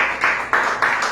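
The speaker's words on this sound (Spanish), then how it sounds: "Un aplauso a Dios, hermanos." Congregation in a church breaking into applause, a dense continuous wash of many hands clapping that swells in several loud waves, with no voices standing out.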